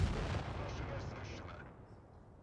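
A tank cannon firing gold ammunition in the World of Tanks video game gives one faint, deep boom that rolls away into a fading rumble.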